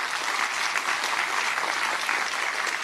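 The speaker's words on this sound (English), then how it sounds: "Give them a round of applause, the grandparents." Steady applause from an audience at an Arangetram Indian classical dance debut fills the space, a dense patter of many hands clapping without pause.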